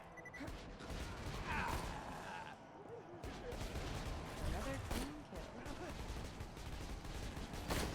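In Borderlands 2, a dense run of rapid gunshots and mechanical clatter keeps going throughout, with a voice talking over the fighting.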